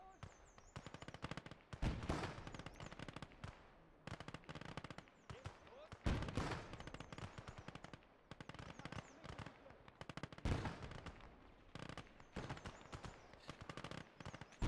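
Machine gun fire in the WWII strategy game Gates of Hell during a PvP match, sustained automatic bursts rattling repeatedly across the whole stretch with brief gaps, loud and dense, with battlefield noise and a voice talking over it.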